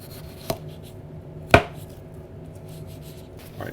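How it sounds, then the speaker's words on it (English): A sharp knife slicing through vegetables for a breakfast hash on a cutting board, two distinct thuds against the board a second apart, then a softer third, close in a quiet kitchen. "Right now I want to cut these in half because they're a little too long for what I'm doing here."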